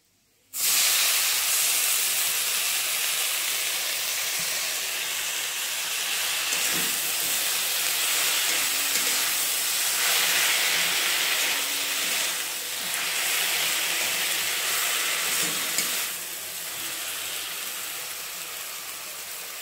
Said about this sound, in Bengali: এবারে আমি পাট শাকটা দিয়ে দেবো।